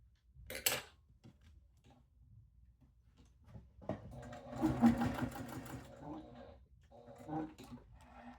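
A sewing machine runs in short stitching bursts, with a clattery rhythmic mechanism and a brief snip-like click early on, moderately close.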